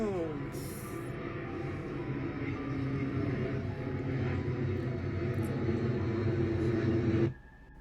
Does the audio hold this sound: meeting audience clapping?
no